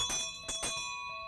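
A town crier's brass hand bell rings in quick clanging strokes, two bursts close together, then a long bright ringing decay, loud and near with no talk.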